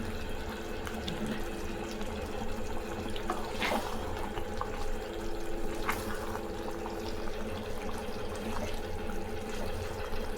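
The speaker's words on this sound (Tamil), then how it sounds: "அதிலே சல சல சலன்னு தண்ணி விடுது பாருங்க" Chicken releases water and sizzles and bubbles steadily in a covered pan, a continuous, fairly soft wet hiss with no talking.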